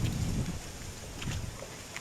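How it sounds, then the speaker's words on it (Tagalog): Strong wind buffets and rumbles across the microphone in uneven gusts, with a low roaring wash underneath. "Mainit ngayon, tapos malakas ang hangin."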